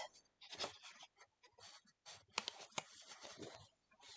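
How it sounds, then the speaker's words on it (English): Crisp snipping and rustling of paper in short, close bursts, a quick cut with brief pauses between strokes. "I'm going to grab just my scissors, and I can just do a quick cut."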